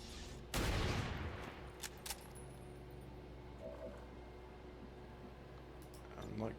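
In the strategy game XCOM 2, gunfire aimed at a pillar: one loud burst of shots up front, then a few sharp clicks and lighter shots over a low steady hum.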